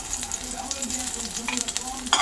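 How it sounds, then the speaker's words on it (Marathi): Garlic frying in a small amount of ghee gives a steady close sizzle with stirring scrapes, and a faint voice sits low underneath. "लसूण थोडंसं परतून घेतल्यानंतर"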